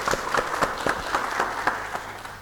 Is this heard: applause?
yes